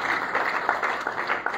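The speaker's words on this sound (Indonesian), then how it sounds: "Beri tepuk tangan terbaik buat itu" A brief burst of applause from a church congregation, many hands clapping together in a dense, steady patter.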